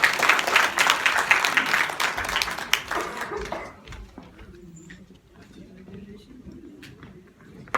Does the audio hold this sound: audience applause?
yes